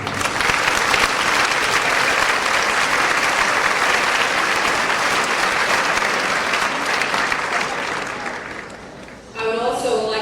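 Sustained, loud applause from a large audience at the 1999 National Book Awards ceremony, steady and dense for about nine seconds before fading, followed by a voice beginning to speak.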